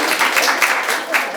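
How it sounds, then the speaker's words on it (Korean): An audience claps steadily to welcome the first invited speaker at an AI and design talk, a dense, moderately loud wash of hands with no speech. "박수로 환영해 주십시오"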